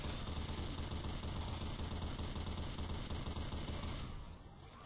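Mounted turret in Left 4 Dead 2 firing a dense, continuous roar of automatic gunfire that cuts off abruptly near the end.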